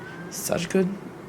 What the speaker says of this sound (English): And I'm sorry if you can hear my cat meowing.